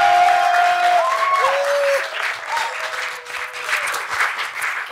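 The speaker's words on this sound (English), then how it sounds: "Please, ladies and gentlemen, a round of applause for the fabulous" A studio audience at a talk show applauds a guest's entrance, steady close clapping with a musical sting playing over it, easing slightly toward the end.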